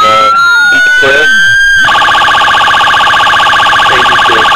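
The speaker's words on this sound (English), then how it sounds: "Let's turn the siren on." Electronic wailing siren from a toy police light bar on a 1:18 scale diecast Ford Crown Vic police car, starting after a few short chirps and tones, then a loud, steady repeating yelp, close and alone.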